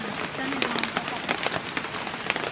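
Rain falling steadily on a hard surface with irregular louder drips and splashes, while children bathe in it, plus a faint voice briefly in the background.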